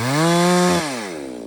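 A Holzfforma G660 Pro chainsaw revs close by, a loud buzzing two-stroke roar that drops in pitch after a brief burst and settles to a steady high idle.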